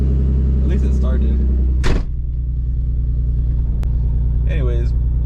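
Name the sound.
1991 Nissan 300ZX twin turbo engine running after starting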